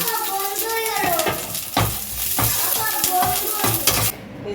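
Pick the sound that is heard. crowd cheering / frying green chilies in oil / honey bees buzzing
frying green chilies in oil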